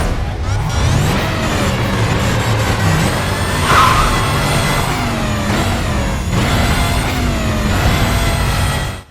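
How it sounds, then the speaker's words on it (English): Racing cars in the video game Need for Speed Carbon roar past with loud, continuous engine drone and shifting revs, layered with whooshes and a brief hiss in a busy game mix. "You'll get fantastic car sounds and engine revving."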